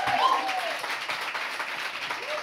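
An audience at a live podcast taping applauds a guest, Trana Wintour, with steady clapping and a cheering voice rising over it through the short burst.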